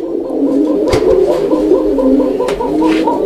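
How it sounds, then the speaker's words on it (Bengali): A male Bombay pigeon coos up close in repeated rolling, throaty phrases, fairly loud and continuous with a few faint background knocks. "দেখেন আপনারা নরের ডাকটা দেখছেন কিভাবে ঘুরে ঘুরে ডাকে, অনেক চমৎকার ডাকের একটা নর।"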